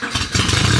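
A car engine cranks and catches, a rough low rumble that swells and settles into a loud, close, steady idle within a second.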